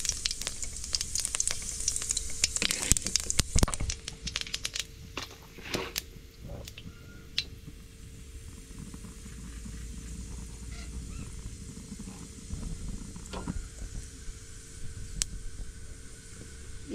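Cumin seeds tempering in hot oil for a Bengali papaya and potato curry, crackling in a bright sizzle that is loudest over the first few seconds and then settles into a steadier, softer fry with occasional pops.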